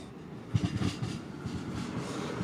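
A train rolls by in the background, a continuous low rumble with faint rhythmic clatter, steady and moderately distant.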